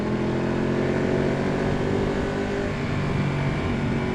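Ducati 1199 Panigale motorcycle being ridden, its engine a loud, sustained droning roar with steady pitch and wind rush, heard up close throughout.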